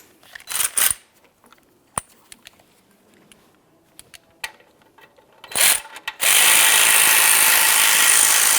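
A ratchet tightens a bolt on the rear ABS wheel speed sensor of a 2015–2020 Ford F-150. Short clicking bursts and scattered metal taps come first, then a loud continuous mechanical whir near the end, close up, with no talking.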